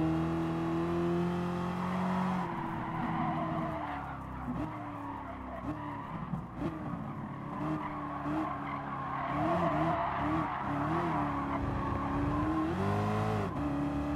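A safety car in Gran Turismo Sport accelerates hard with squealing tires and a rising, revving engine note that climbs through several gear changes, loud and close, with no talking.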